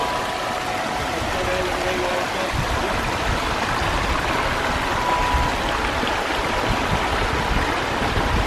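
Water pouring down a 45-foot backyard waterfall, a continuous dense rushing wash that stays steady and fairly loud throughout with no breaks.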